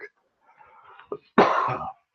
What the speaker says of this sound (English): Sorry if I cough a little